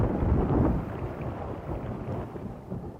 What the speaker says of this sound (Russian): Видно, гроза на всю ночь.